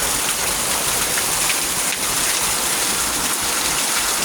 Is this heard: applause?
no